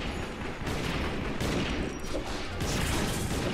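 Dense, continuous gunfire from the video game Secret Ponchos on PS4, a steady crackling barrage that fills the whole stretch without pause.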